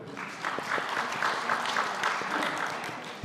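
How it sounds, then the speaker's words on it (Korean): A church congregation breaks into applause during an afternoon sermon, a moderate, steady round of clapping lasting a few seconds. "박수 한번 해주세요."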